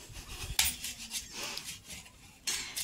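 Knife cutting a hot boiled water chestnut in half on a plate, two sharp clicking strokes against the dish with faint scraping between them, close and quiet.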